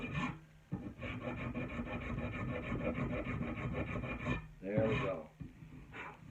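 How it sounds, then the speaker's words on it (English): A wooden axe handle being rasped or sanded by hand, with long rhythmic scraping strokes that repeat close up, pausing briefly between passes, joined by a short burst of heavier strokes near the end. "this is basically sanding what I just did with the spoke shave"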